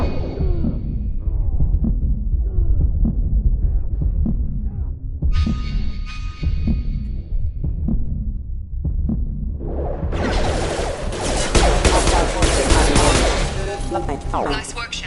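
Sci-fi video game combat with security mechs firing on the player: dense, rapid bursts of gunfire and impacts throughout, intensifying into a loud, sustained barrage near the end, with a voice talking over the action.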